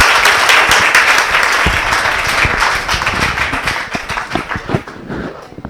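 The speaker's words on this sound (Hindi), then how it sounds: "ये जो तालियां इतनी घनघोर बजी" Loud, thick applause from an audience at a Hindi kavi sammelan poetry gathering, holding strong before thinning into scattered individual claps at the end.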